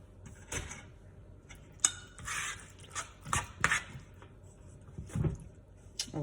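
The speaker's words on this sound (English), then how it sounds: "Oh God, this pot keeps spinning" A pot of box mac and cheese spins on the stovetop as it is stirred, giving soft, close, intermittent clanks and scrapes of metal against the burner.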